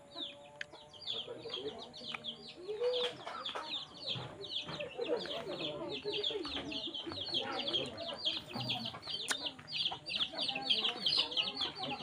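Chickens kept at a rural home among fruit trees cluck and chatter continuously at a moderate distance, with a few other birds chirping and faint talk underneath.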